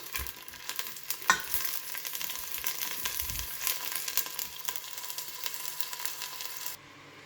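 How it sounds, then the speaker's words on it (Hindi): Chopped onion browning in hot oil in a pan, a steady crackling sizzle with occasional spatula scrapes and bumps, fairly quiet and close, the sound dropping lower at the very end. "अब प्याज को फ्राई करेंगे ब्राउन कलर का"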